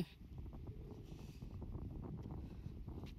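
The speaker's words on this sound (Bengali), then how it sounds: "অনেক বাতাস" Strong gusting wind at the seafront in Clacton-on-Sea, UK, buffets the microphone in a continuous low roar, with surf faintly washing underneath.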